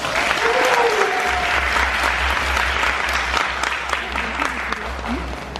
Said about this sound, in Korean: 자, 박수 한번 주세요.